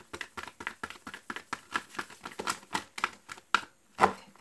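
Tarot cards being shuffled in a quick series of crisp, close riffling slaps, roughly a dozen in even rhythm, ending with a couple of sharper snaps.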